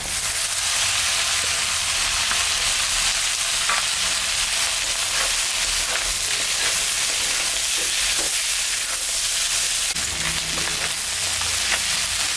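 Diced beans, carrot, spring onion and small potato pieces fry in oil with black cumin, giving a loud, steady sizzle and hiss with occasional stirring scrapes throughout.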